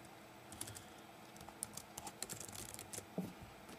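Soft, irregular clicking of keys typed on a Chromebook laptop keyboard, close and quiet, with scattered taps and a slightly louder keystroke near the end, no voices.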